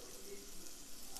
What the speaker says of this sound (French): je sens là que mon huile est bien chaude. Allez, je prends mes oignons et je jette dans ma casserole.